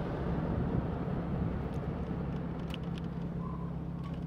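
A 1957 Triumph TR3A sports car drives along, its engine a steady low drone with road rumble filling the whole stretch at an even, fairly loud level, with no voices.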